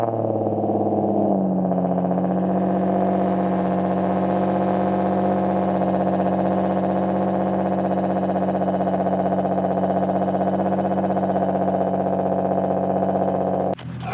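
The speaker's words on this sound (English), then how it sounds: "so I let the car warm up a bit" Nissan 350Z engine idling while warming up: a steady, even drone with a slight drop in pitch early on as the idle settles, close and continuous for about fourteen seconds before a brief clunk at the end.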